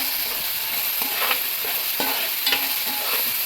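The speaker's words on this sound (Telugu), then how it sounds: "వాసన పోయిన దాకా కొంచెం ఫ్రై చేసుకుంటే సరిపోతుంది" Masala paste for fish curry fries in a pan, a steady bright sizzle with intermittent stirring scrapes of a spoon, close and continuous with no talk.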